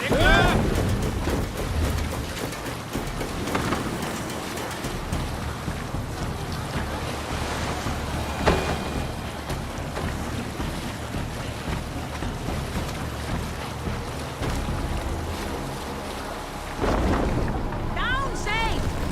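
Viking longship sailing over open sea in Assassin's Creed Valhalla: continuous rushing waves and wind noise, with a crew voice calling out.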